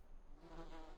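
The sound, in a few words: buzzing insects from a bee or wasp nest, video game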